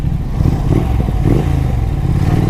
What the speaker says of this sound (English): That sweet rumbled exhaust note will always captivate me.